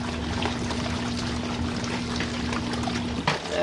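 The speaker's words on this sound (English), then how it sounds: "Better not get splashed by hot water." Hot water pours steadily into an RV washing machine drum with detergent pods, a continuous close rushing and splashing with a faint steady hum beneath that stops near the end.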